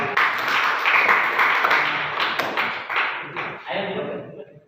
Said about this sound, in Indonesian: Beri aplaus dulu ya untuk kelompok.